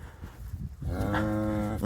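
A cow on an Alberta ranch during calving lets out one long, loud, close moo that swells and holds for about a second after a stretch of quiet rustling, with no talk over it.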